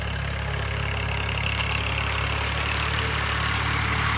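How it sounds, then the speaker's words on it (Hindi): A tractor engine runs in a flooded paddy field, a steady low idling rumble that holds at an even level throughout, fairly close and heard alone without talk. "अब ट्रैक्टर वाला करता है अपना काम"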